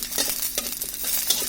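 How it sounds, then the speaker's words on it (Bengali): Garlic fries lightly in a little oil, giving a close, soft sizzle broken by quick spoon-stirring scrapes over a brief moment. "এখন রসুনগুলোকে হালকা একটু তেলে নিচ্ছি আমরা"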